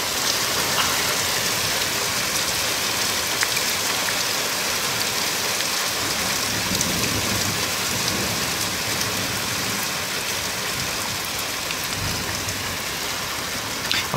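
Heavy rain pours steadily during a thunderstorm over Greater Manchester, a dense, even roar of drops close by that never lets up, with no talking.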